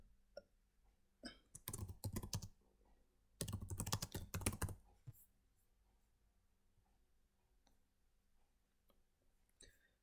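Computer keyboard typed on close by in two quick bursts of clicking keystrokes, followed by a few scattered key taps in a quiet room, with no one talking.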